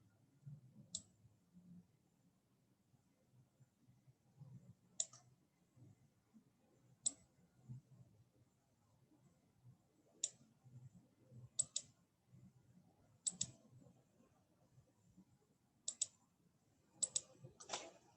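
Soft computer mouse clicks while drawing in Adobe Illustrator, sparse single and double taps spaced irregularly over quiet room tone, close and crisp, with no talking.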